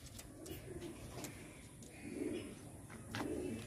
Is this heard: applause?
no